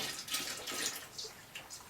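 Thick, dark boiled wort syrup pours into homebrew beer in a soft, uneven watery trickle with small splashing bursts, quiet and close, with no talk.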